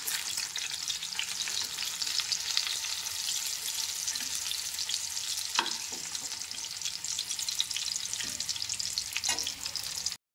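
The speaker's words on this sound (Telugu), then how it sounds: "ఇంకా సైడ్ తిప్పుకుంటూ ఫ్రై చేసుకోవాలి" Stuffed eggplants fry in oil in a pan for Guthi Vankaya curry, giving a steady close sizzle with a few soft stirring knocks throughout and no talk.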